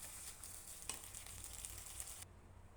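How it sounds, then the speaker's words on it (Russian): Onion frying with tomato paste as it is stirred in a pan, an even hiss of sizzling with soft stirring scrapes, cutting off abruptly near the end. "Все хорошо перемешать и обжарить еще буквально 1-2 минуты"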